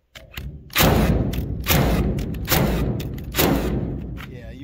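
A Ryobi 18-volt 21-degree cordless framing nailer fires four loud, close thuds about a second apart, each slam trailing off into a ringing decay.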